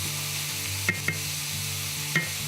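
A steady, close sizzle of beef frying in a hot pan, with a few light scrapes from stirring and a low hum underneath.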